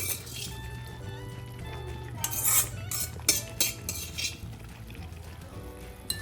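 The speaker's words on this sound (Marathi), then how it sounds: "आपण भाजी आता मिक्स करून घेऊया छान." Vegetables being stirred in a pan for bhogi bhaji, a Sankranti dish: a spoon scrapes and clinks irregularly against the metal over a low steady hum, close and moderately loud, with no talking.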